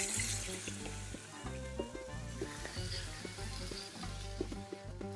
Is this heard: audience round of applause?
no